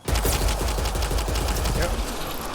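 Rapid automatic gunfire from a gun in the video game Mass Effect Andromeda, a fast even rattle of shots fired close and loud in one continuous burst.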